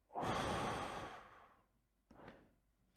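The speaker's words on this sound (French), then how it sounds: "Alors, une respiration." A slow, deliberate breath taken during a meditation session: a long, breathy exhale that fades over a second or so, followed after a pause by a shorter, softer breath, close and with no talking.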